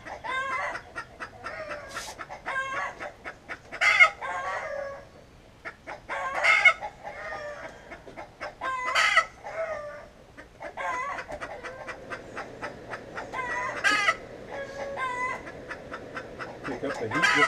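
Agitated hen clucking and fussing in a forge shop, a stream of repeated sharp squawks and cackles in uneven bursts, close and fairly loud, with a low steady background hum.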